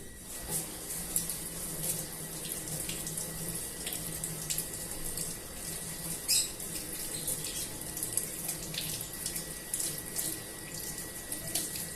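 Steady running tap water splashes continuously into a sink, with small clinks and rubbing sounds as something is rinsed under the stream.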